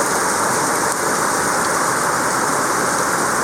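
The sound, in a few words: rain falling in Baguio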